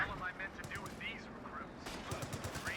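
Machine gun fire in Company of Heroes 2, an MG-42 and LMG-equipped paratroopers trading bursts, heard as rapid crackling volleys that come in clusters under battlefield noise and chatter.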